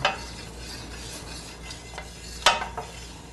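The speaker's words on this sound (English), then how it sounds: "We're going to saute our vegetables." Vegetables cook in about a tablespoon of olive oil while a wooden utensil stirs them, producing a soft sizzle under a few sharp scraping knocks against the pan, one louder near the end.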